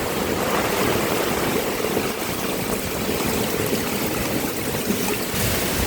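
Floodwater overflowing during a typhoon in Batangas, heard as a steady, loud broadband rush and churn of moving water that carries on without a break, with no voices.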